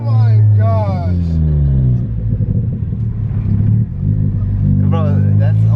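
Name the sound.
car engine revving with big turbo installed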